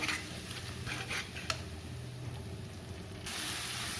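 Tomatoes and fish curry masala sauté in hot oil for a Bengali rohu fish curry, giving a steady low sizzle and soft crackle throughout, with one sharp tick partway and the frying swelling a little louder near the end.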